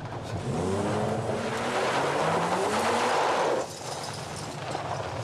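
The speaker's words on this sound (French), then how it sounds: "fais crier le moteur, mec, fais crier le moteur." A rental car engine revs hard, its pitch climbing in rising, strained sweeps for several seconds before dropping off abruptly to a lower steady idle-like drone.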